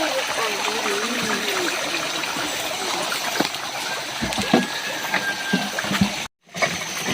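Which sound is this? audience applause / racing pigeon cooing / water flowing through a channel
water flowing through a channel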